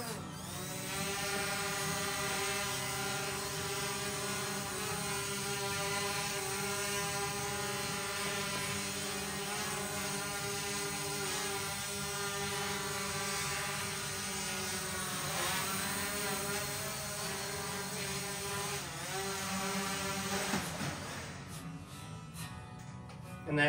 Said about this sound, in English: Now the drone is ready to fly.